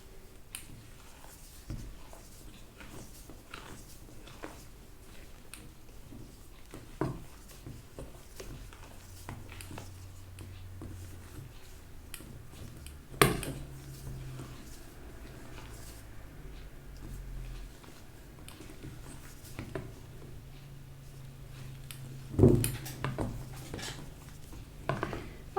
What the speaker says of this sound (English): very gently to fold in with the spatula like that, because we want to keep the lightness of the whipped whites